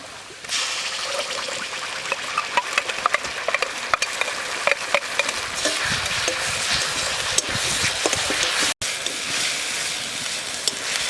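Ginger, garlic and green chilli paste hits onions already fried golden in a pan outdoors in a forest clearing, sizzling loudly and steadily while a spatula scrapes and stirs with irregular clicks and knocks.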